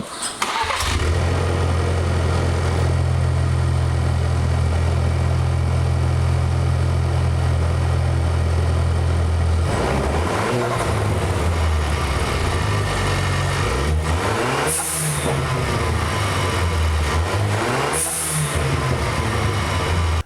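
A 2019 Ford Ranger fitted with a TurboSmart blow-off valve cranks and settles into a steady loud idle, then revs a few times with rising and falling engine pitch and brief hissy bursts up close.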